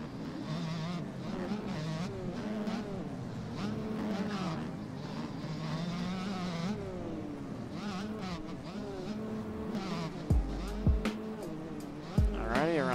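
A 2-stroke 150 dirt bike in MX Bikes screams and revs through whoops, its pitch rising and falling steadily, with other bikes nearby and a few thumps near the end.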